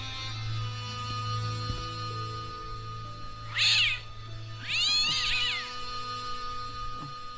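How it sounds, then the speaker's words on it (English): A cat meows twice in the adventure video game Broken Sword: Shadow of the Templar, a short yowl followed by a longer, wavering caterwaul, clear and close over a steady low game ambience. "The cat was an ugly brute who looked like he owned the joint."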